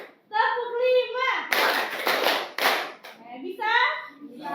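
Schoolchildren in a biology class doing a counting clap game, with a quick burst of sharp, close hand claps in between their talking voices.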